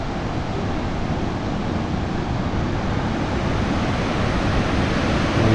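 Khone Phapheng waterfall on the Mekong: a massive, continuous roar of rushing water, broad and steady, with no voices.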